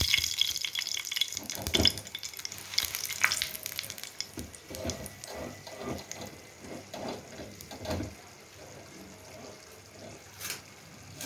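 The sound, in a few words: dried chilies frying in soybean oil and ghee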